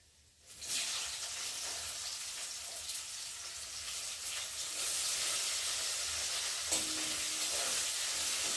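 Chopped onion hits a hot pan after garlic and starts to fry, a sudden sizzling hiss that swells and then holds steady and close, with a small clink partway through.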